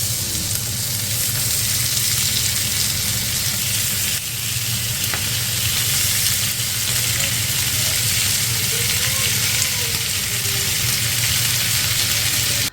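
Chicken tikka skewers sizzle in vegetable oil on a hot pan, a loud, continuous close crackle and hiss that holds steady throughout with occasional small pops.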